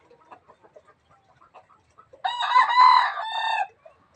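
A rooster crows once, loud and close, after a run of faint, scattered clucks from chickens nearby.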